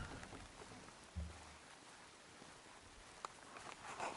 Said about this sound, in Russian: Дождик, дождик.